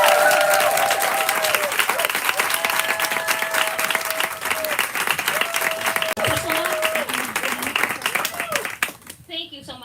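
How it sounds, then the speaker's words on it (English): An audience at a bookstore reading event claps and cheers steadily for a guest, a dense sustained round of applause that fades near the end. "please give a round of applause for our special guest this evening"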